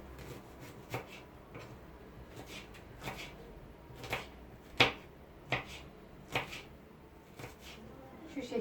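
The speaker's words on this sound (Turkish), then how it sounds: "Son soğanımı da doğruyorum." A knife taps sharply against a cutting board in slow, uneven chops through onions, quiet and close by.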